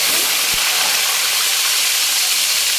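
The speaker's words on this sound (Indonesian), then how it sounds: "terus kita goreng ikannya" Flour-dusted marinated tilapia frying in hot oil gives a loud, steady, dense hiss and sizzle close up that continues unbroken throughout, with no talking.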